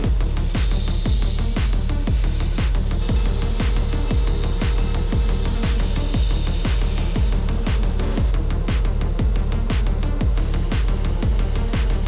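A steel knife blade has its bevels set with steady, rhythmic abrasive strokes, roughly three per second, scraping close and loud for the whole stretch with no talking.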